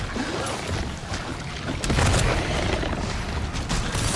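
Grenade blast in a horror video game, a loud, dense burst of rumbling noise that swells midway and lingers, close and heavy, with faint voices mixed in.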